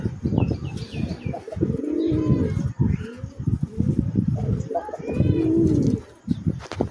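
Desi coloring raj golla pigeons coo in repeated low, throaty rolling calls close by, with some wing flutters and faint chirps. Someone talks over them throughout.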